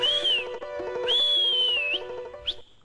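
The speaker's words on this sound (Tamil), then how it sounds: "இங்க எதுக்கு வந்து விசில் அடிக்கிற" A bus conductor whistles loudly and shrilly, with two long sustained whistles followed by a short chirp, over a steady tonal background hum.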